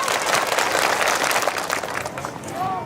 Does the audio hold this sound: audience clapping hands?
yes